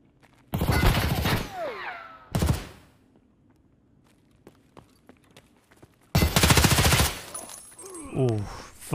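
Gunfire in the shooter Escape From Tarkov, two loud close bursts of rapid shots separated by a quiet stretch with faint ticks and steps, the second burst longer and followed by a trailing rattle.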